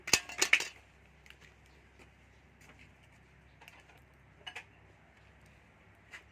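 Mashed mackerel with chili spooned into a bowl, a few quick clinks of spoon against dish at the start, then sparse faint taps in a quiet room.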